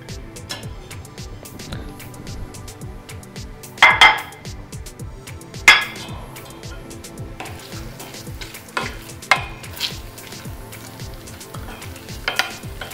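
Cheese melting in a pot for an Elsweyr fondue, stirred with a utensil in a steady scraping rhythm, with soft sizzling beneath and a few louder clanks of metal against the pan.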